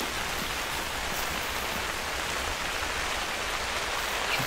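Steady, even rain hiss in the hunting game theHunter Call of the Wild 2, a constant soft wash with no other distinct sounds.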